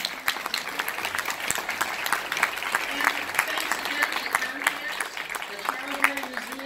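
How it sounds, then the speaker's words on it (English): An audience claps for the panelists after a panel discussion on the Green Book, a steady, full round of applause filling the room, with some voices faintly mixed in beneath the clapping. "I want to thank the panelists here. Round of applause for."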